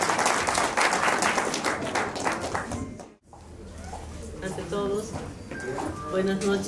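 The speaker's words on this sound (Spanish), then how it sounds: "Fuertes aplausos para el cariño." Guests at a wedding reception in Smelter, Pasco applaud loudly, a full burst of clapping that cuts off briefly and then returns with voices and talk mixed through it.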